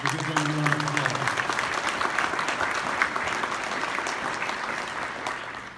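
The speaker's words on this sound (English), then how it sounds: "Would you give them a round of applause?" A banquet crowd at a cattlemen's convention gives an executive council a round of applause, broad steady clapping from a large room, with a brief voice at the very start.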